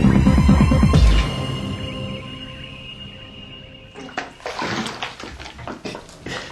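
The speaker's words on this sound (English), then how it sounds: "as the water empties from the bath, the volume remaining decreases" Water drains out of an emptying bath with a loud, close, rushing swirl that fades to a quieter flow, then breaks into uneven gurgles and sloshing splashes.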